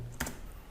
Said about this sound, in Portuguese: Então eu vou dar um Enter